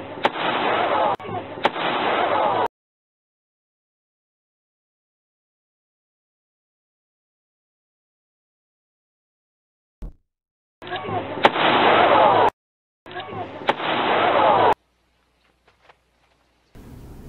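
Firing squad gunfire from the film Rio Negro: harsh bursts of rapid shots in several loud blocks separated by long silent gaps, with a single sharp crack in between, close and aggressive.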